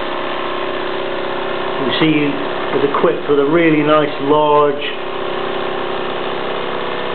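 Wilesco toy steam engine running, a steady mechanical chuffing and whirring hum throughout, with someone talking over it in the middle.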